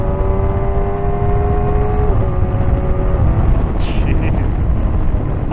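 A motorcycle engine held at full throttle gives a loud, steady drone with sustained harmonic tones that hold level and then shift in pitch partway through, over continuous rumbling wind and road noise.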